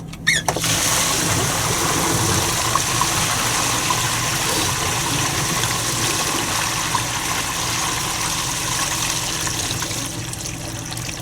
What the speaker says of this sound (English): Now, I'm going to open up the black tank valve to drain it.